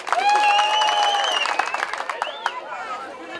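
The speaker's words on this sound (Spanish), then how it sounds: "Puros aplausos." At a jaripeo, a crowd applauds and cheers loudly at first, then the clapping thins into scattered claps and a murmur of voices.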